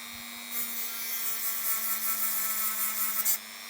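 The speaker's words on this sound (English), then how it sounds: "I can actually use the disc to flatten it a little bit." Grinding disc flattening the freshly cut end of a metal spring, a steady high whining grind that starts abruptly and runs for about three seconds over a constant motor hum.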